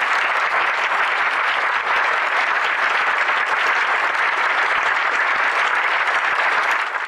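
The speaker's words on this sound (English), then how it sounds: "So a round of applause, please." Audience applause for Orange County Sheriff's Department law enforcement and veterans at a school district address: steady, dense clapping from a large crowd, loud and sustained throughout with no voices over it.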